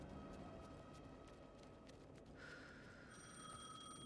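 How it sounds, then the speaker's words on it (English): A telephone rings faintly in the video game Alan Wake 2, with steady electronic ring tones starting partway through over a low, constant background hum. "The phone again."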